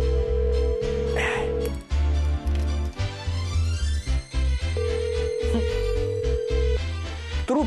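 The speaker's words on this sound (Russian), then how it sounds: "Трубку не берет." A telephone rings repeatedly, loud and close, its tone sounding in long bursts over steady background music, with a voice briefly heard partway through; nobody picks up.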